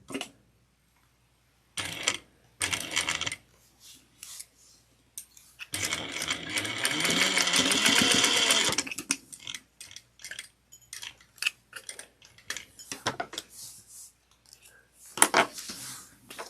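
A sewing machine stitches a tote bag in short bursts, then runs in one sustained whir lasting several seconds, followed by more stop-start stitching and small handling clicks, with no talking.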